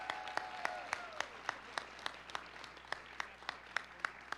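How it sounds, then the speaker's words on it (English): An audience at a mass meeting claps for the testifiers, faint and somewhat distant, with sharp claps in a steady, even rhythm over a quiet room. "Let's give all these testifiers one more round of applause."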